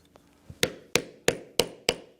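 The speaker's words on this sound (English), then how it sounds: "set the rivet" A hammer strikes a rivet on a leather log carrier, five sharp, evenly spaced blows that ring close and loud after a couple of faint light taps.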